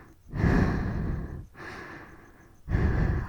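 A voice imitates heavy, rough breathing right up close in the ear, three long raspy breaths in slow succession, loud and intimate.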